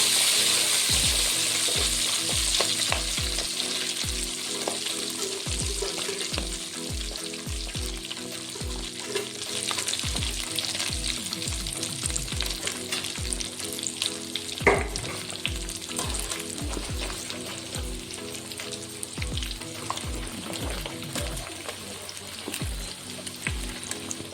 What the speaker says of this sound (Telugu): ఇప్పుడు చికెన్ మనం ఆల్రెడీ బాయిల్ చేసాం కదా, ఇది వేసి ఫ్రై చేసుకుందాం.